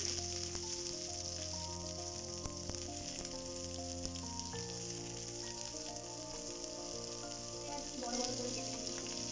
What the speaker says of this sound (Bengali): কিছু কুচনো পেঁয়াজ অ্যাড করব